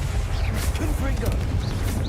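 A Confringo blasting spell cast in the Hogwarts Legacy video game: dense, rumbling bursts with crackling impacts that run continuously and loudly for about two seconds, set within busy combat noise.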